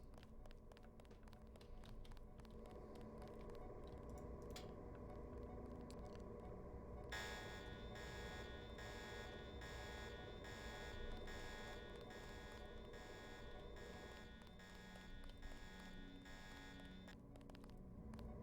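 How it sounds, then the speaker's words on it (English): A security alarm in the video game Deus Ex blares as a steady, continuous electronic buzzing tone, loud and unbroken for about ten seconds, over a background of game ambience. "So alarm just went off."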